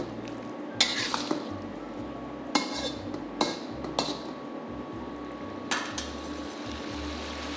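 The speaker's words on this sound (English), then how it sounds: "You should be able to hear the sizzle and smell the aroma of the Chinese cooking wine." Chinese cooking wine sizzles around the sides of a pan during a salmon stir fry, a steady broadband hiss under several sharp clanks of utensils against the pan, with no talking.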